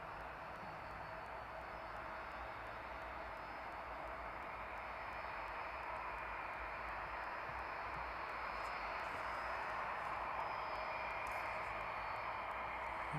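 A Boeing 757 at East Midlands Airport in the evening, taxiing toward its stand: a steady, fairly distant jet engine whine and rumble holding at an even level throughout, with no voices.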